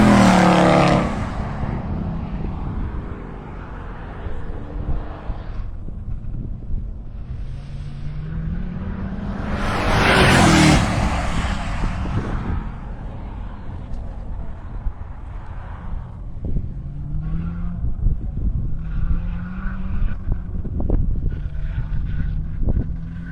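Camry race car lapping Carolina Motorsports Park, engine note rising and falling through gear changes, with one louder surge as it passes closer, otherwise steady at mid distance.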